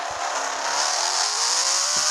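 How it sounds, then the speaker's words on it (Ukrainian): A car engine revving hard close by, a loud sustained roar with a bright, rising whine that stays strong and even for the whole stretch. "Вона так газує, подивіться."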